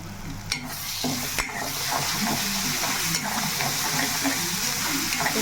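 Masala for a tomato chicken curry fries in a pan with a low, steady sizzle, broken by a few sharp clinks and stirring scrapes, heard close with no talking.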